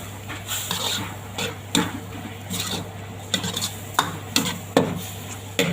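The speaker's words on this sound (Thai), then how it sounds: "คนให้เข้ากันให้ใบยี่หร่ามันสุกนะทุกคน" Cumin leaves cooking in a pan while being stirred; repeated scraping and clinking of a utensil against the pan in an irregular rhythm, close up, over a low steady hum and faint sizzle.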